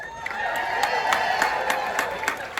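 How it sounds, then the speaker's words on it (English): A large outdoor crowd at a trans and queer march for Trans Day of Visibility in Delco, a steady wash of cheering and scattered clapping, fairly loud and continuous with sharp claps popping out. "this is a huge crowd"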